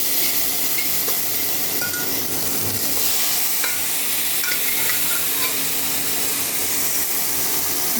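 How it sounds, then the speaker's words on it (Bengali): Lentil dumplings (bori) fry with vegetables in a pan, making a loud, continuous sizzle with stirring scrapes and a few clinks throughout. "বড়িগুলো লাল লাল করে ভেজে নেব।"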